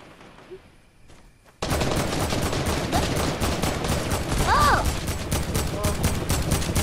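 Rapid bursts of gunfire in Fortnite squads gameplay erupt abruptly and continue as a loud, dense volley, with a brief rising tone partway through.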